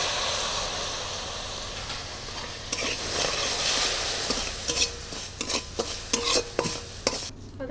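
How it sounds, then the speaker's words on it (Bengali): Sugar caramelizes with a little water in a pan for malai kulfi, giving a steady, close hiss of sizzling that later breaks into a series of sharp scraping stirs. "এটাকে ক্যারামেল করে নেব। অল্প একটু জল দিয়ে দেব।"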